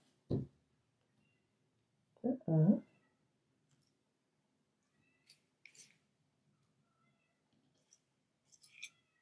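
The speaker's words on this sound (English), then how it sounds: "I hear my kitty cat." A cat meows once or twice in short, faint calls indoors, followed by a few light clicks in an otherwise quiet room.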